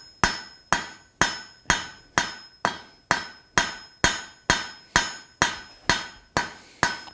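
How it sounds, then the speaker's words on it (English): A blacksmith's cross peen hammer strikes the jaws of hot steel tongs fifteen times in an even, steady rhythm, each blow a sharp ringing clang that decays quickly, with no talking. "I'm going to use the cross peen."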